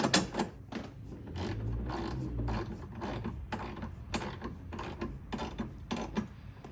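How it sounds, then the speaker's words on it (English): A ratchet with a 14mm socket tightens a bolt while a front strut brace goes onto a Toyota Corolla hatchback (E210), giving quick repeated clicking bursts, close and fairly loud, with short pauses between strokes. "I'm going to use a ratchet and 14mm socket."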